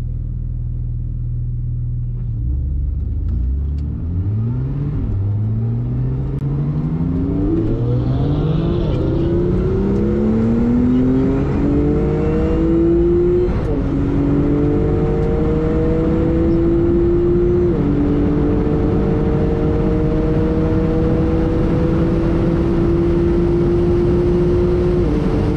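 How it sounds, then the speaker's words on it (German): A fast car accelerates hard on a race track at a Zweibrücken performance event, its loud engine note climbing steadily through several gear changes over a constant roar, with no talking. "Der Wagen ist halt auch schnell"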